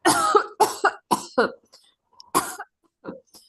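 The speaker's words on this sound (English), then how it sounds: "I'm coughing." Harsh coughing fits close by, several rough bursts in quick succession, then a pause before a few more throaty coughs.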